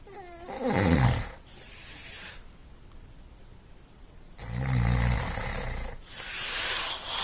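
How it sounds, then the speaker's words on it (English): On a played-back ghost-hunting recording, a person breathes heavily in rough, snore-like inhales and exhales, loud and close, in about three long breaths with quiet gaps between. "'Cause That's you breathing."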